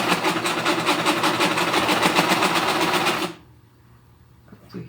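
A sewing machine runs steadily for about three seconds, stitching elastic onto fabric with a rapid, even mechanical whir, then stops abruptly, leaving near silence.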